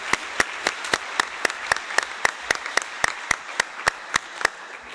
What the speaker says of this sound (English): I'd like a round of applause and thanks to them and their teams